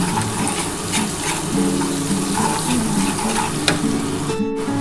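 Onions sizzle and crackle steadily in hot oil in a pan, a loud continuous frying hiss with occasional stirring scrapes throughout.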